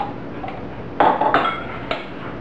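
A utensil stirs a blended shrimp filling in a bowl, making a few sharp, close clinks and scrapes against the bowl over a quiet background, with no talking.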